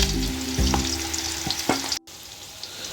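Onions frying in a pot with bay leaf, black pepper, cloves, cumin and black cardamom for potato dum biryani: a loud, steady sizzle with a few stirring clunks, briefly cut off midway before the quieter sizzle resumes.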